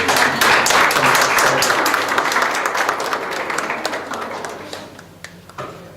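At a Gandhi statue unveiling on Tolstoy Farm in South Africa, an audience breaks into loud, dense applause that gradually thins into sparse claps and fades out.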